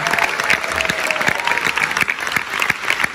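Concert crowd applauding at a live show, dense and fairly loud clapping with some sharp individual claps standing out, continuous throughout.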